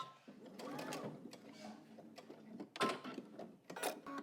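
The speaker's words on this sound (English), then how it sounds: "I'm gonna stop about a 1/4 of an inch from where my dot is. And I'm gonna back stitch." A home sewing machine back stitches a garment seam, humming in a steady run, pausing briefly, then whirring again in short bursts, close and fairly quiet.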